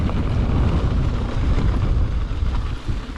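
Strong wind buffets the microphone during a night ride on a Cannondale Trail 7 2021 mountain bike, a loud, continuous low roar with gusty swells and no speech.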